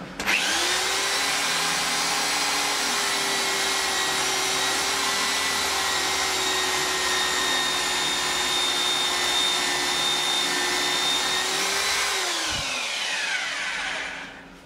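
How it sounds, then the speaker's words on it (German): A power drill whines steadily at high pitch for about twelve seconds, close and loud, drilling a 4.2 mm core hole for an M5 thread into a metal lathe slide, then spins down and stops. "jetzt müssen wir noch ein bisschen in den Schlitten reinbohren"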